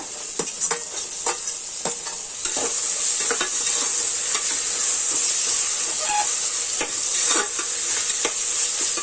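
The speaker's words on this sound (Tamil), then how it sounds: "இந்த காய் எல்லாமே ஒரு 2 நிமிஷம் இந்த ஆயிலே நல்லா வதங்கணும்" Chopped tomato, carrot and beans sautéing in oil in a pan: a bright, continuous hiss of frying that swells louder after a couple of seconds, with repeated stirring scrapes and taps throughout, and no voices.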